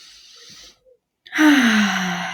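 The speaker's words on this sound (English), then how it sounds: "take a deep breath" A person taking a slow, deep breath while seated tall with an open chest: a soft airy inhale, a short pause, then a louder, close, drawn-out exhale like a sigh.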